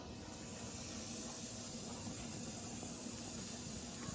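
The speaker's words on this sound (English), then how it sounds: "just listen to this sizzle" A continuous, steady hiss of a hamburger patty sizzling on a hot grill, even and unbroken throughout.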